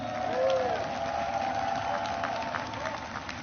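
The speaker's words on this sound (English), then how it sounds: "Give her a round of applause." A large crowd cheers and applauds at an outdoor presidential speech in Warsaw, a steady wash of noise with shouts rising briefly near the start.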